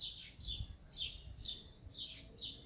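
Small birds chirp outdoors in a repeating series of about six high, bright tweets at a steady rhythm, moderately close and alone over faint low rumble.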